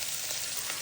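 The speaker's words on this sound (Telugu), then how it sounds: "క్యారెట్ వేస్తున్నాను" Carrot pieces sizzling as they hit a hot frying pan, a steady bright hiss of oil that stays even and fairly close for under a second, with no voices.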